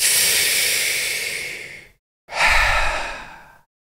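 Two long, deep breaths, each a close, airy exhale that fades out, separated by a short silence, during a relaxation session.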